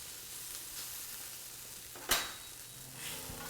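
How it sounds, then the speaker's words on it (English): Potatoes fry in a pan with a steady, moderate sizzle throughout, broken by a sharp clatter or scrape near the middle and a brief swell toward the end. "see that sizzle? That is the noise you want to hear"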